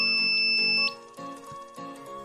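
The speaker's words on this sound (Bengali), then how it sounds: "তাই আপনারা দেখতে পাচ্ছেন সব দিক থেকেই বিপ সাউন্ড পাওয়া যাচ্ছে" A homemade DIY metal detector sounds near a power bank with metal parts spread inside, giving a steady two-tone electronic beep for most of a second before it cuts out, leaving quieter room noise with faint clicks.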